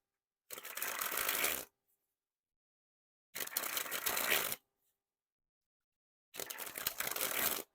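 A deck of Bicycle Denim playing cards, fully inked and still a little stiff, sprung from hand to hand in three separate bursts of roughly a second each, close and crisp, with silence between and no talking.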